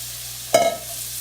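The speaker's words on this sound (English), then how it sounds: "I'm going to take the whole loin and just go right in my skillet." Whole venison loin from a buck or doe dropped into a hot skillet, giving one sudden loud sizzle burst that quickly fades into a soft steady hiss, with no talking.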